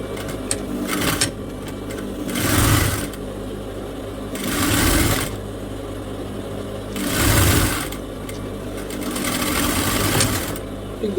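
A sewing machine stitches folded fabric for a ruffled aso-oke headband, running in three or four loud, whirring bursts of several seconds each with quieter pauses between them and no talking.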